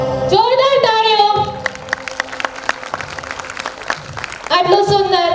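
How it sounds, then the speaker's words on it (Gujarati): Parents and children fill a school annual function hall with loud applause and a crowd roar. A voice speaks before the clapping swells and again as it fades near the end. "જોરદાર તાળીઓ."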